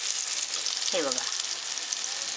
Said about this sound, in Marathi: आता दुसऱ्या साईडने सुद्धा आपण छान असं भाजून घेऊया